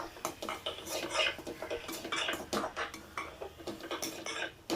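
A spoon scrapes and clinks against a pan while chilli powder, coriander, coconut and roasted gram are dry-roasted, with rapid irregular metallic scraping close by.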